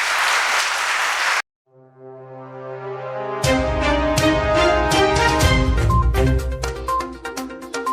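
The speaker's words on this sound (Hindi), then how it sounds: "मैं चाहूँगी कि आप सब मिल के ज़ोरदार तालियां बजाएं अपने वालिदैन के लिए।" Audience applause for parents at a declamation contest: a brief burst of clapping at the start cuts off abruptly, followed by loud recorded music with tones and percussion playing through to the end.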